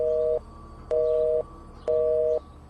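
A telephone busy tone sounds after a call is cut: three evenly spaced electronic beeps, each about half a second long with equal gaps, clear and steady over a faint hum.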